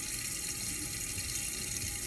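A kitchen tap runs steadily into a sink while dishes are washed, a constant close hiss of flowing water with no voices.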